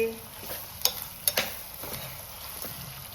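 Mixed vegetables of onion, capsicum, carrot and cabbage being stirred in a pan, with a soft scraping hiss and a few sharp clinks of the spoon against the pan; no talking.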